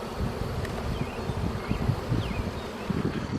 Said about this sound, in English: Look at them fanning the hive right now, because it's either too hot in the hive